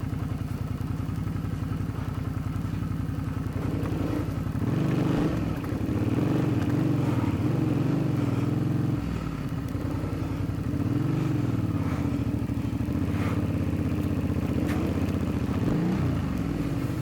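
A Suzuki V-Strom 650 motorcycle rides with a loud, close, throbbing engine note, rising and falling as the throttle shifts, over constant wind and road rumble.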